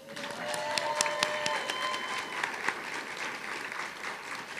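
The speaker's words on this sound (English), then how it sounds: "Now you can clap again." Audience applause at a civic ceremony swearing in the director of Seattle Center, a steady wash of clapping hands with sharp individual claps standing out, sustained throughout at moderate distance.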